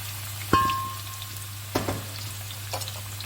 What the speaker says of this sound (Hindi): आप उसमें गरम ऑयल में डालें और इनको आप फ्राई कर लें